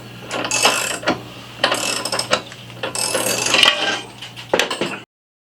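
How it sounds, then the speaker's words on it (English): A jack ratchets a vintage Top Fuel Harley upward in a workshop, giving repeated loud metallic clicking strokes in four close bursts with short pauses between. "I'll just jack it up and put a block of wood under it"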